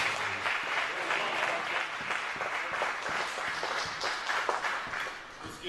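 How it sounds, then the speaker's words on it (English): An audience at a celebration of the Honorable Elijah Muhammad's birthday applauds the minister with sustained, even clapping that stays close and loud throughout, easing slightly near the end. "Tahama another round of applause."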